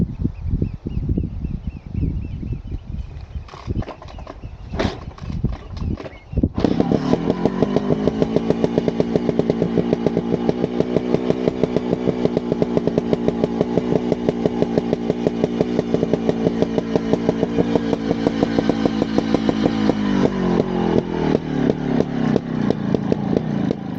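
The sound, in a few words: Scorpa 250 trials motorcycle riding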